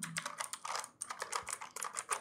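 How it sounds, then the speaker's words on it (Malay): Rapid, clicky keystrokes on a Fantech Atom 104S mechanical keyboard with blue switches, close and crisp, in quick uneven bursts with no talking. "Saya suka dia sebab yang ni mechanical keyboard."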